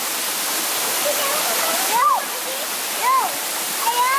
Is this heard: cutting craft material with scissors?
no